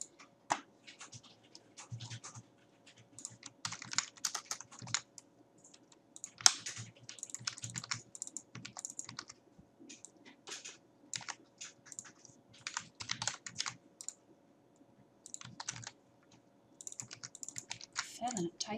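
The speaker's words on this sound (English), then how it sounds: "Failing at typing today." Typing on a computer keyboard during game development work, steady close clicking in uneven bursts over a faint background hum, with soft talk in places.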